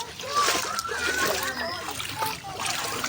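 Splashing and sloshing of sea water as someone wades in for a swim at a beach, steady and close, with children's and adults' voices talking over it.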